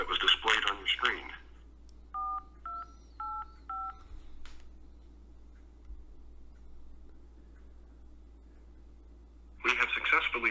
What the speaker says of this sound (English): Using the touchpad on your phone, please enter the 4-digit PIN number that was displayed on your screen.